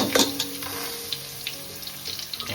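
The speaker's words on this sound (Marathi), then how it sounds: "मस्त की खमंग परतून घेऊ मस्त" Sweet jackfruit pulp sautéing in a pan, a soft continuous sizzle broken by light scraping stirs and small clinks, with no talking.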